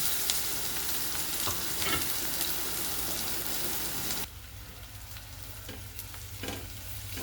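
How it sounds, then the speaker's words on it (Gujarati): Onion sizzles in hot oil with mustard seeds, cumin and green chillies, a dense, bright crackle that runs strongly for four seconds and then drops to a quieter, steady fry with occasional pops. "રાઈ અને જીરું નાખી લીલા મરચાં નાખી દેવાના. ડુંગળી નાખી દેવાની."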